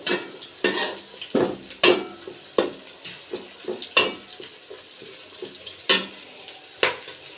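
Nutmeg and spices being stirred and fried in a pan for milk pulao, with repeated scraping strokes and soft sizzling in a steady rhythm, close and clear.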